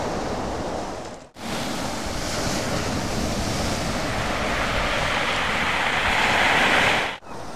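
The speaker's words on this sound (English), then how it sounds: "Just bringing all the pebbles as it gushes in." Sea waves wash continuously over a pebble beach on the Devon coast at Seaton, a loud rushing roar with rattling stones and gusting wind, broken by two short gaps.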